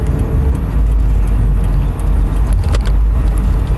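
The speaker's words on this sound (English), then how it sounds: "Damn, this big old ugly ass truck." A big, old, ugly truck rolls past on a road, its loud, steady engine rumble and road noise filling the scene throughout, with a brief hiss and rattle partway through.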